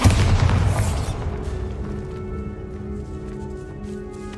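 A Bombarda blasting spell goes off in Hogwarts Legacy, a heavy booming burst at the start that rolls out and decays into a low rumbling tail with faint ambient tones beneath.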